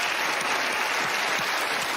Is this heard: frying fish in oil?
no